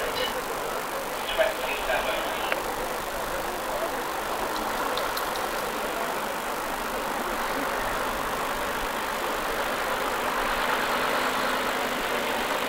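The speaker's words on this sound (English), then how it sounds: "Tractor and trailer unit." A British Road Services tractor and trailer unit sits idling outdoors at a road run, its engine a steady mid-pitched rumble under a broad noise wash, with brief faint clinks early on.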